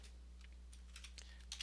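A few soft keystrokes tap on a computer keyboard, faint and irregular over a low steady hum.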